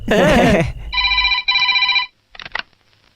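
A telephone rings in a Hindi-dubbed film scene: two bright, electronic ring bursts follow a moment of speech, then a shorter, softer ring trails off near the end.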